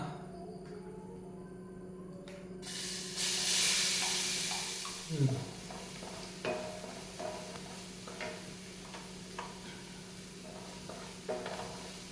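Crushed shallots drop into a hot pan for a raw papaya stir-fry and burst into a loud hissing sizzle that settles into steady frying, with scattered scraping stirs and light clicks afterward.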